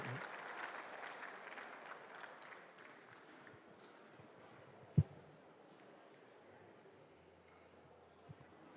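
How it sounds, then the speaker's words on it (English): Applause from the audience at a civil service week awards night ceremony, moderate clapping that fades over several seconds, with a sharp thump midway and a faint murmur of the room behind. "A big round of applause,"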